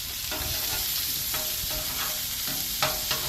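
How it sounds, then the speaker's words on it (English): Breaded pork chops and red potatoes fry in a hot pan, giving a loud, constant close-up sizzle, with a few metallic clicks and scrapes as tongs turn the food near the end. "now that we flipped our pork chops, we are going to get rid of these tongs"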